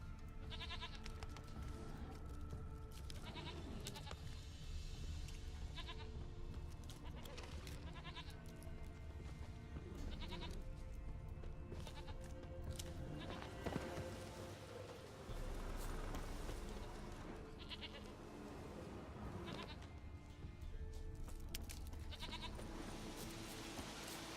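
Goat bleating in The Witcher 3, repeated calls over a dense game soundscape of music and ambience, fairly steady and moderately loud throughout.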